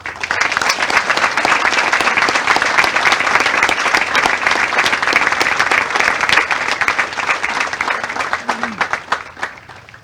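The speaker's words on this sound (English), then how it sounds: "please join me in giving our awardees a round of applause" Crowd at a military cadet summer training graduation ceremony giving awardees a sustained round of applause, loud dense clapping from many hands that holds steady and then thins and tapers off near the end.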